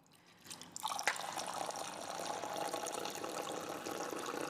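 Cold tap water runs into a measuring jug in a home kitchen, starting with a soft trickle and swelling into a steady, close, gushing stream that fills the jug without pause.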